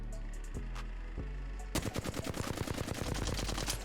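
Apex Legends gunfire in-game: a couple of isolated shots, then a sustained rapid automatic burst of evenly spaced, loud, sharp cracks running to the end.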